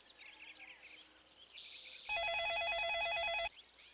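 A telephone rings in a home, a loud electronic warbling ring lasting over a second, preceded by faint chirps.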